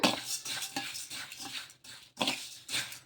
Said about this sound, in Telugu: ఇలా ఇవి రెండు కూడా వేసేసుకొని ఒకసారి బాగా కలిపేసుకుందాము